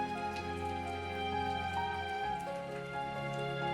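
Rain falls steadily in the mountains, a soft, even patter that holds at a constant low level throughout with no voices.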